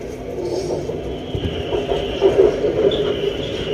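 A Bangkok MRT Blue Line train pulls out of the tunnel at Tao Poon station with a steady, loud mechanical rumble and rail roar that swells slightly midway, and no voices are present.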